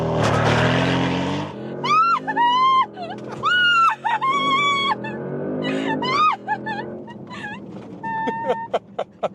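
A Porsche Panamera Turbo V8 using launch control, a loud engine burst followed by rising revs through sharp gear changes, with voices speaking over it.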